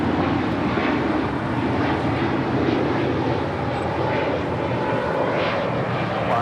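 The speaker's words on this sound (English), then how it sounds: "That is Spirit Airlines 184, departing to Cleveland, Ohio on an A320neo" A Spirit Airlines Airbus A320neo departs LAX for Cleveland, its jet engines a loud, continuous broadband roar that holds steady and close throughout.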